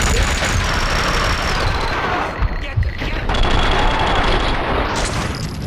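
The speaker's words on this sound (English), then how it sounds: "Someone must have heard the gunfire." Sustained barrage of gunfire in the video game Max Payne 2, dense bursts and loud booms layered throughout with no pauses, close and aggressive.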